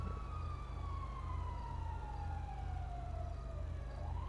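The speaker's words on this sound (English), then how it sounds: "Fire engine is going to come because obviously the car's just been blown up" Fire engine in the game GTA 5 with its siren wailing in a long, slowly falling sweep before rising again, over a steady low engine drone at moderate distance.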